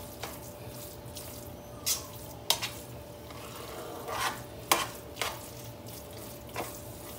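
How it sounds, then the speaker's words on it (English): Vegetable fried rice with red onion is stirred in a pan over faint background sizzle, with several sharp scrapes and clacks of the utensil at irregular intervals and no talking. "We're going to put that in there. And we're just going to stir this in."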